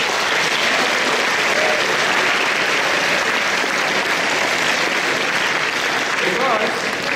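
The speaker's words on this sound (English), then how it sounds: "please give a big round of applause to yourselves." Sustained, loud applause from a conference audience at a closing ceremony, dense and even throughout, with a faint voice briefly audible near the end.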